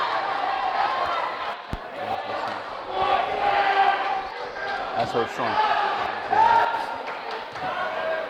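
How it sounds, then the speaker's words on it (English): Loud home crowd noise from Bethlehem Eagles fans at a high school basketball game during a free throw, a continuous roar with swelling shouts and a sharp thud, under a commentator's talk. "The crowd of the Eagles, coach, are really loud, trying to mess up his rhythm on the line here."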